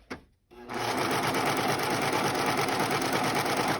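A serger sewing machine stitching fabric, starting with a brief click then running as a fast, even mechanical chatter, close and continuous.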